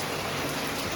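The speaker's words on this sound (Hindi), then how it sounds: "अभी देखो गाइस इतना ज़्यादा बारिश हो रहा है भाई, आज दिन भर बारिश हुआ है।" Heavy rain pours down in the evening after falling all day, a dense, constant hiss of drops filling the whole moment with no break and no voices.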